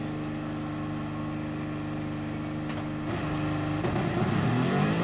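Car engine in Gran Turismo Sport running steadily at constant revs, then dropping through gear changes with rev blips near the end, loud and close with no talking.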